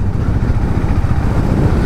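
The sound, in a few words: Hero Mavrick 440 motorcycle engine running in gear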